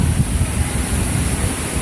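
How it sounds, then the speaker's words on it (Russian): Wind blows steadily in Singapore city, a loud rumbling rush against the microphone with a faint hiss above, and no one speaks. "Да, подул ветер"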